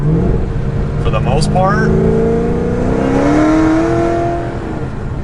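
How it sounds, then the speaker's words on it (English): Loud exhaust of a Cadillac CT5-V Blackwing in sport mode, a steady close-up drone with rising and falling tone beneath someone talking throughout. "I personally like the loud exhaust, so I'm gonna leave it in sport mode"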